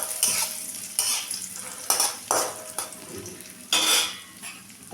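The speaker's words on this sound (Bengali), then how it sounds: "এখন আমি কাজুটা আর কিশমিশটা ভেজে নেব।" Cashews and raisins fry in hot refined white oil in a pan, with crackling sizzle and repeated clinks and scrapes of a spoon stirring against the metal, close and in uneven bursts.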